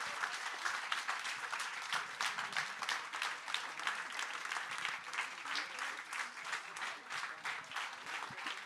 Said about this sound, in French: vous pouvez l'applaudir très fort